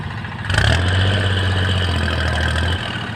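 A Kubota tractor engine chugs steadily at close range, starting up about half a second in and running at a low throbbing idle, with no voices.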